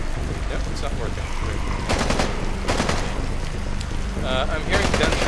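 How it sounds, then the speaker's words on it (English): Gunfire from the Contagion video game, with several sharp bursts of shots around the gas station and bank area, rising out of a busy, steady game soundscape. "I'm hearing gunshots up here by the gas station and the bank."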